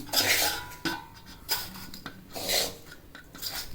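Roasted semolina is scraped out of a metal kadai into a separate vessel while making rava laddu, giving close, irregular metallic clinks and gritty scraping strokes.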